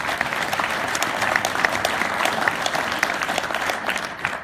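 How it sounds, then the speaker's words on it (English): Audience applause for speakers at a community event: dense, steady clapping from a crowd that holds an even level throughout with no pauses. "Let's give them one more round of applause."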